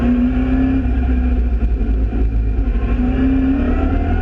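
A Mini Challenge race car drives a wet race at Silverstone GP, its engine holding a loud, steady, close drone with a sustained tonal whine throughout and no talk over it.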